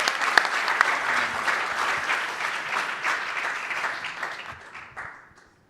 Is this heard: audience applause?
yes